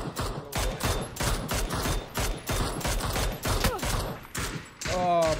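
Dense, rapid gunfire from the video game PUBG on the desert map Miramar, bursts of automatic shots crackling loudly and nearly continuously with short gaps, a player voice talking faintly underneath.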